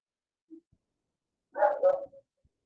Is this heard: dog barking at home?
yes